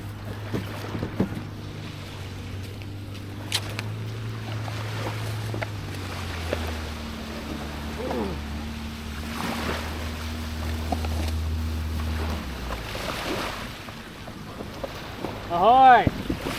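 A big hard-bottom dinghy motoring closer across open water off a remote Indonesian anchorage, its low outboard drone holding steady and then cutting off, with wind buffeting the microphone and brief voices calling out near the end.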